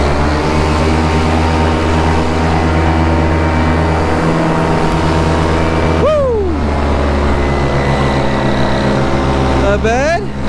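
A Vittorazi paramotor's engine and propeller drone steadily in flight, a loud, close, buzzing hum rich in harmonics, with the pitch briefly swooping down and back up twice as the throttle changes.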